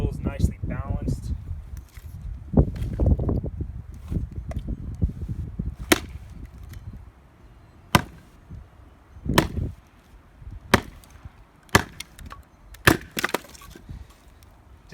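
A Hults Bruk Aneby hatchet chops wood with a knot: sharp, separate thwacks land at irregular intervals, some ringing woodily, over rustling and low handling noise near the start.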